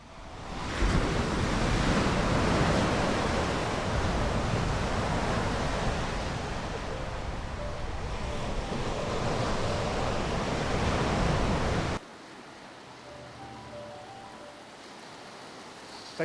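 Sea waves crash and wash on the shore during winter flounder fishing, a loud, continuous surf roar with wind buffeting the microphone, then dropping abruptly to a quieter background of distant surf.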